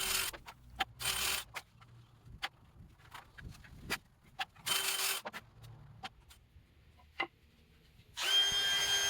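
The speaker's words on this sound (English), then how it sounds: "Using my DeWalt palm router here, I love this thing. I'm only rounding the outside edge of the legs and the bottom" A DeWalt palm router rounds over the outside edges and bottoms of wooden table legs, starting and stopping in several short loud bursts with quiet handling noise between passes.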